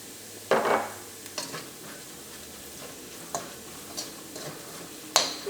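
Crushed dried chillies with ginger and garlic get stirred in a pan for chicken Manchurian: a soft background sizzle broken by a few scraping strokes and sharp utensil clinks against the metal.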